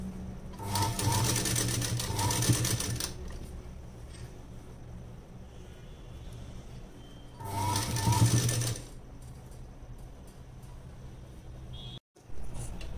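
Sewing machine stitching piping onto cloth in two close, rapid bursts of whirring stitches separated by quiet pauses, with faint clicks between runs.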